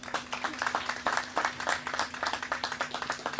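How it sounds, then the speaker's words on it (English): A crowd gathered for a new $16 million veterans' housing project claps for itself, a short burst of fairly close, brisk applause with individual claps distinct over a low hum. "So everybody give yourselves a round of applause"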